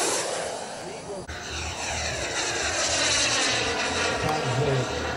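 Model jet aircraft roaring loudly through a takeoff run at a model aerodrome, a steady close turbine whine and rush that holds strong throughout, with brief voices underneath.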